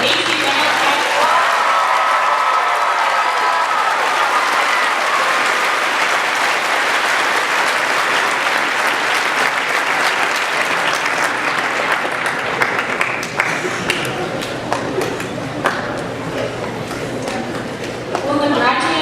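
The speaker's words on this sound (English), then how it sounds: "Please join me in a round of applause for the graduates of AC Reynolds High School." Sustained applause from a crowd at a high school graduation ceremony, steady and fairly loud, then thinning into scattered claps near the end.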